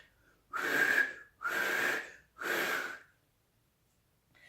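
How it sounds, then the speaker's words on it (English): Three long, loud two-finger whistles in a row, each held about a second with short breaths between, sharp and close with nothing else around. "put 2 fingers in his mouth and let out that very large whistle of his"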